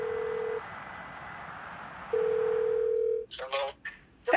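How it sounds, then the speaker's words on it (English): A telephone dial tone hums steadily for a phone call, breaking off and resuming before a few brief dialing beeps, over a hissy background. "Troy, go and have a totally not scheduled phone call with Karen."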